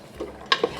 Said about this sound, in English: Now I want to hear some sizzles with my oil in the pan while we saute